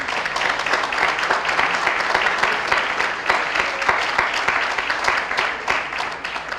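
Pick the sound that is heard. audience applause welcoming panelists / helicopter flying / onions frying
audience applause welcoming panelists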